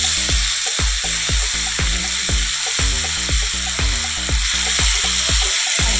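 Ground cumin, ginger and garlic paste fries with tomato in a pan, a loud continuous sizzle cut by rhythmic spatula strokes scraping the pan about twice a second, close up, with no talking.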